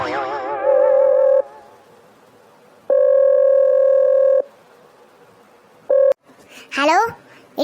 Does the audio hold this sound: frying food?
no